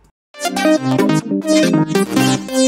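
A synth mix without a sidechained auto filter, dense and bright with stacked chords and steady mid basses, loud and continuous for a few seconds after a brief silence, with no voices.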